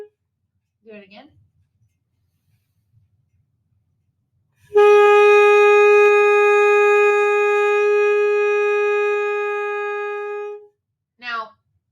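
A saxophone reed vibrating into one sustained, steady beginner's note, loud and close, held for about six seconds after a short spoken pause, with brief speech before and after.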